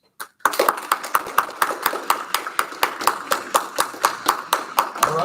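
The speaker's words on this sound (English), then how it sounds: "if you think the affirmative side made the stronger argument, please go ahead and show us a round of applause." After a public debate on nuclear disarmament, the audience claps in support of one side. The claps are crisp and close, falling in a steady, almost metronomic beat of about four per second for five seconds.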